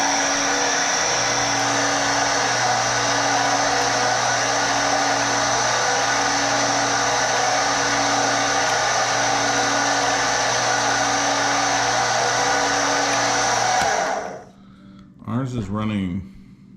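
A repaired Stenner peroxide pump runs with a loud, steady motor whine and hum for about fourteen seconds, then cuts off abruptly, followed by a brief spoken voice.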